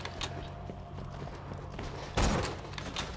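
Scattered gunshots in a video game firefight, faint distant pops through the clip and one loud close blast near the end.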